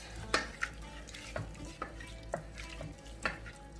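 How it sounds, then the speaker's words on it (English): Lamb mince with added spices is stirred and broken up in a pan for samosa filling, a soft sizzle under repeated spoon scrapes and knocks against the pan, close and without talk. "And I'm going to add the spices as well. Give it a good mix."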